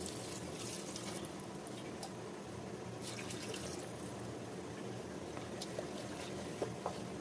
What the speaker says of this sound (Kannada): ಎರಡು ಗ್ಲಾಸ್ ನೀರು ಸೇರಿಸ್ಕೊತಾ ಇದ್ದೀನಿ